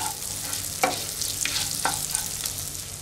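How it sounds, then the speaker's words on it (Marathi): Finely chopped garlic frying in butter and being stirred, a soft continuous sizzle broken by several sharp scraping strokes of the spoon against the pan, close and without talk. "त्यामध्ये मी आता 2 ते 3 लसूण पाकळ्या ज्या बारीक चिरून घेतल्या आहेत त्या घालते आणि लसूण व्यवस्थित मी बटरमध्ये मिक्स करून घेते."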